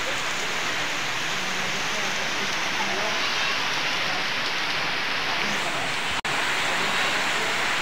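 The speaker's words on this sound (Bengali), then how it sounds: "আমাদের এদিকে সাতক্ষীরা অঞ্চলে কিন্তু প্রচুর বৃষ্টি হচ্ছে দর্শক" Heavy rain pours down in the Satkhira region of Bangladesh. It makes a dense, constant roar of water that stays loud and even throughout, with one brief sharp click near the end.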